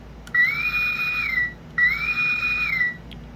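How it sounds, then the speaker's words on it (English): Two high electronic whistling tones from a 2022 Playmates Classic U.S.S. Enterprise NCC-1701 toy firing photon torpedoes, each sliding up, holding steady, then dipping, like a sci-fi blaster effect, separated by a short pause. "Photon torpedoes fire."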